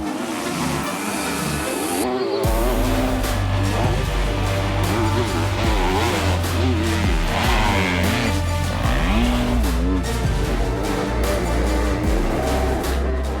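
Motocross motorcycles racing in the MX2 class at the MXGP of Sweden, engines revving loud and close with rising and falling pitch sweeps as bikes accelerate and shift, continuous and dense with overlapping machines.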